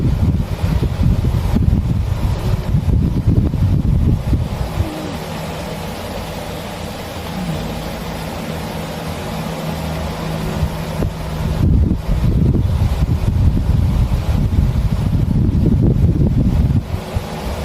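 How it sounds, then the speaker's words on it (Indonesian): Electric fan running at high speed as part of an IoT setup, giving a loud, steady broadband whoosh with low rumble throughout, dipping briefly in the middle before returning at full strength. "bagian kipas sudah berjalan kencang"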